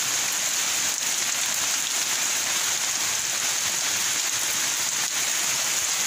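Steady rain falls on outdoor surfaces, a dense even hiss of drops with occasional louder patters, continuous and fairly close.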